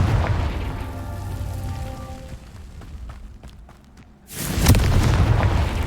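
A Confringo fire spell in Hogwarts Legacy bursts into a heavy, booming explosion after a few seconds of quieter game ambience with light clicks. The blast is loud and rumbling and sustains to the end.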